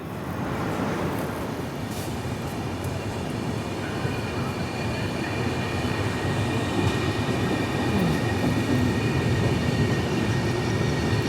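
The 12767 Hazur Sahib Nanded–Santragachi SF Express running on Indian Railways, heard as a steady, loud rumble of wheels and carriage noise throughout, with no talking.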